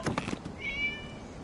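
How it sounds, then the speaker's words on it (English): A cat meows once in a video game, a short, fairly close call following a few brief thumps, with no talking. "It was just a cat."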